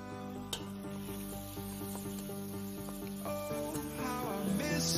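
Bolognese sauce simmers and sizzles steadily in a pan for a studio cooking segment, a continuous close bubbling crackle with faint clinks and a light stirring scrape near the end, with no talking.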